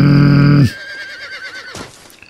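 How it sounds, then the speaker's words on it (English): A horse in the Western video game Red Dead Redemption gives one loud, close whinny lasting under a second, followed by quieter game ambience with a faint wavering tone. "Come here, horse."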